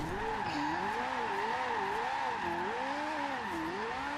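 A Ferrari F40 drifting in Forza Horizon 2 gives a sustained tire squeal that wavers up and down in pitch, rising and falling over a steady engine drone, loud and continuous.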